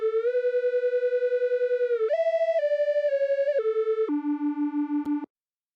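Stereo synth layer with a hand-drawn pitch curve, playing a bright, buzzy sustained tone that steps between a few pitches with a fast pulsing wobble, alone and fairly loud for about five seconds before cutting off abruptly.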